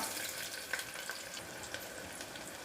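Small onions, crushed garlic and broken dried chilli frying in a pan for nattu kozhi kulambu, a soft, even sizzle with faint stirring clicks, close and continuous.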